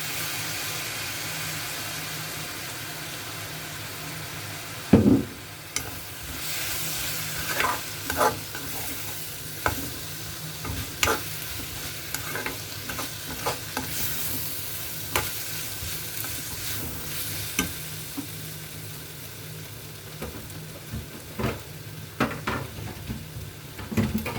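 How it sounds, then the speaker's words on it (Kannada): Egg fried rice with soy sauce stirred in a hot pan: a steady sizzle with repeated scraping and clattering strokes of a spatula against the pan, one sharp knock near the start, no talking. "ಚೆನ್ನಾಗಿ ಮಿಕ್ಸ್ ಮಾಡ್ಕೊಳ್ಳಿ."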